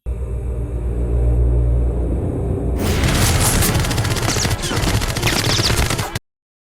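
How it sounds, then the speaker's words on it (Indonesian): Film gunfire as a killer opens fire on a victim and a shootout breaks out, a dense loud rattle of rapid shots over booming low rumble, following a steadier tonal stretch before cutting off abruptly. "Ternyata itu adalah The Collector yang langsung menembaki Rodney dengan senjatanya"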